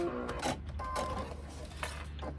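A domestic sewing machine stitches steadily, then runs a short back-and-forth lock-off to end a seam on a sling; the motor hum and needle chatter stay close and continuous throughout.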